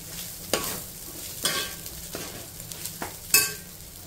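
Cooked rice with chicken being stir-fried in a pan, street-side style: a sizzling bed broken by rhythmic spatula scrapes and tosses about every second, close and loud with no talk.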